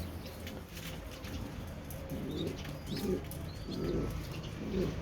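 Domestic pigeons coo softly in a loft, low repeated burbling calls rising and falling over a steady background hum, with faint chirps now and then and no voices.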